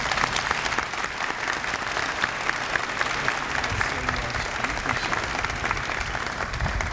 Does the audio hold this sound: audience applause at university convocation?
yes